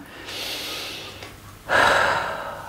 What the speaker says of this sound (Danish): mærke sin egen vejrtrækning og tage en dyb ind af slagsen